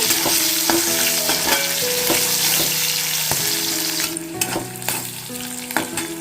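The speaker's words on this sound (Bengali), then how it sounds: "এই ক্যাপসিকাম ঘি নুন আর একটু চিনি দিয়ে ভালো করে ফ্রাই করলে খেতে কিন্তু অসাধারণ টেস্টি হয়" Capsicum frying in ghee with salt and sugar makes a loud, continuous sizzle, broken by repeated spoon scrapes and clinks against the pan as it is stirred.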